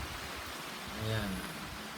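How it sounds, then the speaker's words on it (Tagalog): Heavy rain pours down steadily in a brief burst of dense, even hiss outdoors around a 2021 Mitsubishi Xpander GLS AT. "Bumuhos na po ang ulan"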